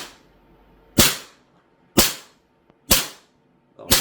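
Four sharp, loud shots from a Sig Sauer 1911 Emperor Scorpion CO2 BB pistol with blowback, spaced about a second apart, each a crisp crack with a quick fading tail, heard close in a quiet room.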